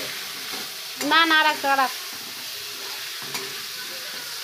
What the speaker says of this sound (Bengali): বেগুনটা ভাজছি, দেখুন কিছু হবে না